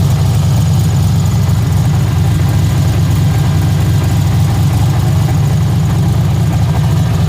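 A 1986 Mustang engine fitted with a blow-through carburetor runs steadily at idle, a loud continuous low rumble with no one talking.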